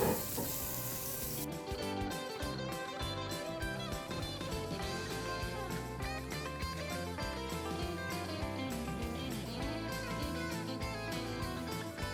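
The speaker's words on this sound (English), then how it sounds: "You hear that noise? A sizzle? That's what you're looking for." Food laid into a hot pan fries with a steady, dense sizzle that carries on without a break for the whole stretch, close and fairly loud, with no voices over it.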